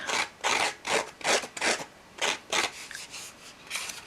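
Torn edges of cardstock being roughed up for a vintage look on an Easter card, producing a rhythmic series of about ten short, close, dry scraping rubs with no talking.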